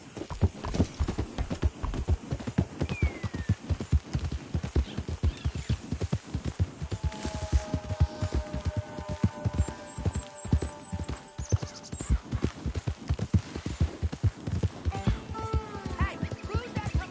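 Horse hooves gallop in a steady, loud clip-clop rhythm throughout a Red Dead Redemption 2 ride, with a brief whinny and some game sounds over the top.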